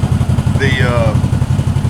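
A CFMOTO ZFORCE 800 side-by-side engine is run at full throttle with its exhaust off, a loud pulsing low-pitched roar that stays steady and close, while a voice speaks briefly over it.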